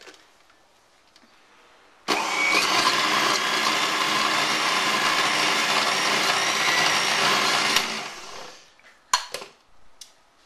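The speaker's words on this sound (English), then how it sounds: "you can just put it in the blender and just puree it until it's completely smooth" A blender whirs loudly and steadily for several seconds, then winds down and stops, followed by a few clinks and knocks.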